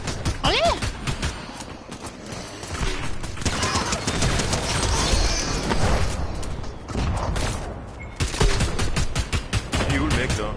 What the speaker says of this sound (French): Et à droite, ça tire, attention, à droite, ça tire, attention.